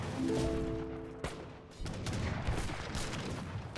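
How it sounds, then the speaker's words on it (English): Mortars fire in a strategy video game, heavy booming blasts and gunfire bursting in a dense cluster after a brief sustained tone, fairly loud with no talking over them. "As I was saying, 4 mortars coming in."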